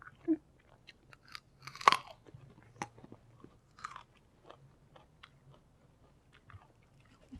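A dog chews and crunches raw cabbage picked from a garden yard, with a series of close, irregular wet crunches and bites, several sharp louder snaps among softer chewing.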